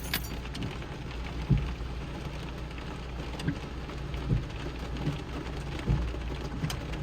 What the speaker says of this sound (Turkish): Acayip yağmur başladı.